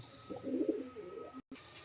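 A pair of pigeons coo softly in a brief low rolling call, close and quiet, followed by a short gap and faint background noise.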